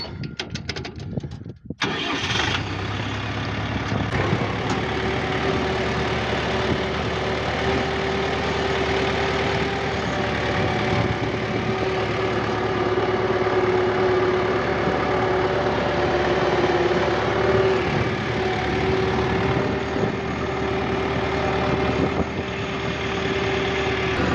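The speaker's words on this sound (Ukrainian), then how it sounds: "Як обгортає тракторець." A KENTAVR 404SD walk-behind tractor's small engine sputters to life and then runs steadily at a constant putter for a long stretch while hilling potatoes, fairly close and continuous.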